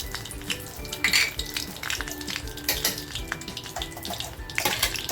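Whole spices such as cardamom, cinnamon, cloves and black pepper sizzling in hot oil in a pan for a paneer dish, a steady close crackling fry with small pops and clinks.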